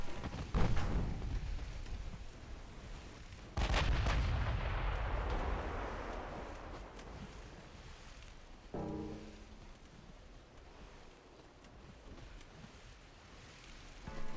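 Naval 8-inch guns firing in Ultimate Admiral Dreadnoughts, a few heavy booming salvos with long rumbling decays, the loudest near the start and middle, with a lighter mechanical rattle later.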